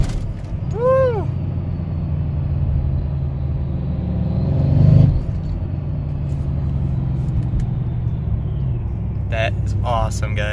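A car pulls hard off the line after a supercharger clutch delete pulley install, giving a loud, steady engine rumble with a swell of revs midway, plus whoops and chatter from the people inside.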